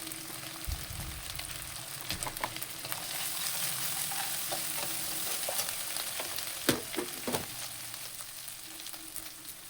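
Curry base of ginger-garlic paste and a pinch of turmeric frying in a pan gives a soft continuous sizzle, with a few scattered stirring knocks and scrapes, moderately quiet and close, no voices.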